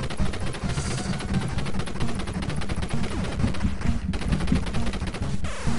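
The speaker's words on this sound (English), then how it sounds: "Machine gun. I'll take it." Rapid machine gun fire from the video game Contra, a dense continuous stream of retro electronic shots rattling steadily for several seconds alongside game sounds.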